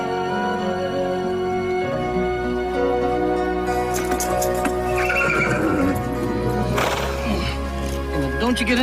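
Horse named Flash whinnies loudly and clip-clops on the ground amid a music score, with people talking over the scene; the neigh rises sharply near the end.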